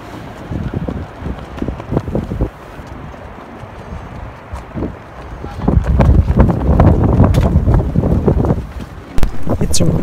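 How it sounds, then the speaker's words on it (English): Strong gusts buffet the microphone on the world's highest suspension bridge in Colorado, which is lined with flags. The wind comes as loud, low rumbling bursts that swell and ease, and it grows heavier and more constant in the second half. "It's a really windy day."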